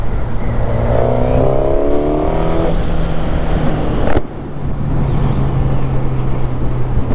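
A 2021 Suzuki GSX-S 1000 motorcycle with a quickshifter revs its engine with a steady, loud drone under strong wind buffeting, the pitch climbing in stepped pulls and then settling.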